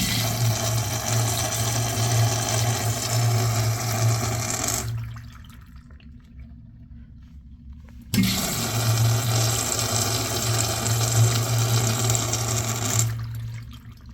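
Water rushes steadily through a Sloan SU-7009 small urinal during its bowl rinse flush, running loud and continuous for about five seconds, stopping abruptly, then surging again for several more seconds before cutting off.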